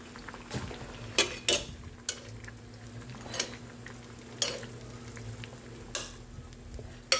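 Pork and egg frying in a pan give a low, continuous sizzle, with repeated sharp clacks and scrapes of a utensil against the pan at irregular intervals.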